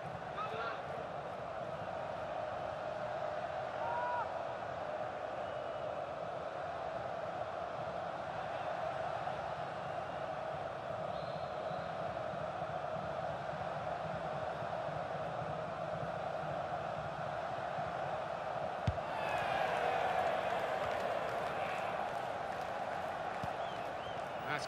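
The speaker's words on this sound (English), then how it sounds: "The crowd having a good time." A stadium crowd in the football game FIFA 19 roars steadily through a Mexican wave, a continuous broad wash of cheering that swells slightly near the end.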